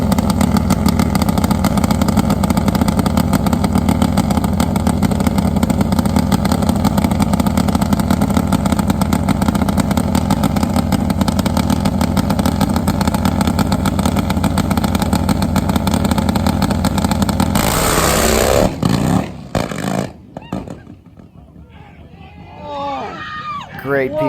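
Nitro-fuelled Harley drag bike engine at a drag race, a loud continuous rasping roar that holds steady for most of the time, then cuts off abruptly into quieter noise near the end.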